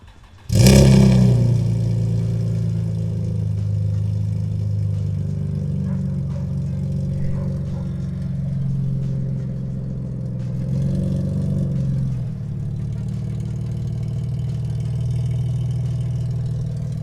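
An Infiniti G35 with an exhaust leak starts up loudly and settles into a steady, rumbling idle. Its deep low drone stays strong and unbroken for the length of the clip, and no one speaks.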